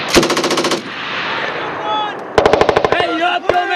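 A Marine Corps machine gun mounted on a tripod fires at 29 Palms in two rapid bursts, each a loud string of sharp cracks, with shouted commands from the gun crew in the pause between.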